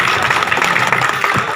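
Loud, continuous applause from a village crowd at a memorial blood donation camp, a thick wash of clapping hands with a voice faintly audible underneath.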